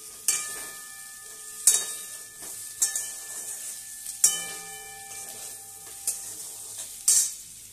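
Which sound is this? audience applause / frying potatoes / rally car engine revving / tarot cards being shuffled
frying potatoes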